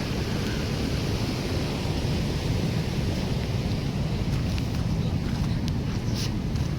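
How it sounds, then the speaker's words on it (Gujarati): Heavy summer downpour in a Gujarati village (Ingorala), a dense, steady roar of rain, loud and unbroken, with gusty wind buffeting the microphone. "ભર ઉનાળે હો અંડરાધાર વરસાદ."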